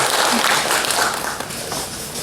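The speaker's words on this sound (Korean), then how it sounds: "박수 하나님께 올려드리고 자리하겠습니다." During Sunday worship at Yein Church, the congregation applauds in a dense, full-room wash of clapping that holds for about two seconds and then gradually thins.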